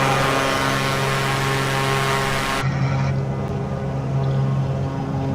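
An airliner's engines roar at full power during a takeoff roll in Microsoft Flight Simulator, a dense, steady rush that suddenly thins partway through to a lower hum, with no one speaking.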